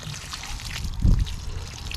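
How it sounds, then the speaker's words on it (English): Water poured heavily onto loose garden soil around a plant's roots, a short gushing splash about a second long rising briefly above quiet outdoor background. "The heavier pouring of the water does a better job"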